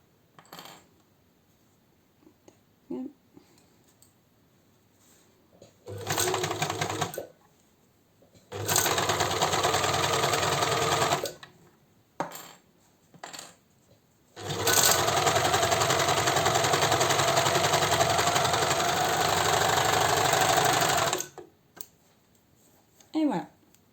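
A sewing machine stitches a T-shirt shoulder seam in two sustained runs, a short burst and then a longer steady whir of several seconds, loud and close, with quiet pauses between.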